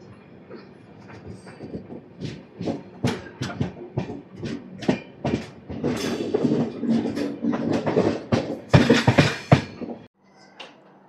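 The Rayalaseema Superfast Express, train 12794 from Nizamabad Junction to Tirupati, runs at speed, with rapid rhythmic rail clatter and bursts of loud rushing noise, heard from on board, ending abruptly.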